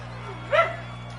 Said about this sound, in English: That was my dachshund over there, Ginger. She was saying, go Jets.